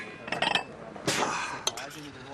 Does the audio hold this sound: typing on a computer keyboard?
no